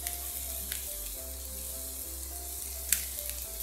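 Chopped green chilli and capsicum sizzle softly in a hot pan as they are stirred in. The quiet, steady frying hiss continues throughout, with a faint low hum underneath.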